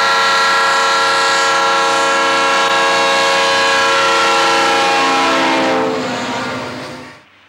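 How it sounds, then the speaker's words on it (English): A pair of GE U23B diesel locomotives on an L&N local freight sounds a long, loud, sustained horn blast that fades out at the end, with rail noise underneath. "We are back in Mount Vernon as a pair of U-23Bs works the local freight."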